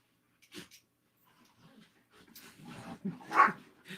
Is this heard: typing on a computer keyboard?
no